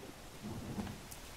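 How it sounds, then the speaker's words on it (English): Rain with a low rumble of thunder in the survival video game The Forest, a soft, steady wash of falling rain under a faint distant roll, with no talking. "Oh, and there comes the rain."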